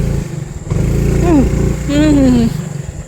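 Motorcycle engine running close by, revving with rising and falling pitch sweeps over a rumbling idle, while people talk nearby.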